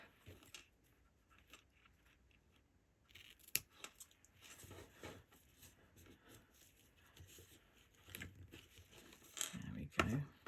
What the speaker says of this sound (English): then just going to come in and trim down the ribbon